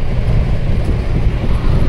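A mini bus engine drones steadily from inside the moving vehicle, a loud, continuous low rumble mixed with road noise and no voices.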